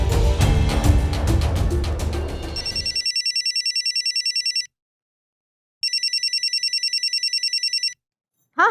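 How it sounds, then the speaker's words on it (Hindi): An electronic telephone ringtone in a Hindi TV comedy serial chirps in rapid trilling bursts, two long loud ring cycles separated by a short silence, after background music cuts off. "फोन लगाओ भाभी जी को, उनसे बतियाओ और अपना मन हल्का करो"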